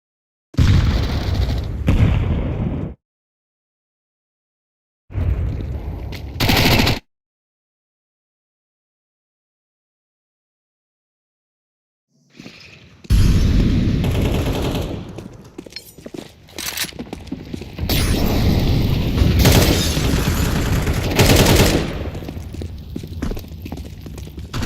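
Counter-Strike 2 gunfire, short loud bursts separated by stretches of silence, then a longer run of sharp shots and booming impacts packed closely together near the end.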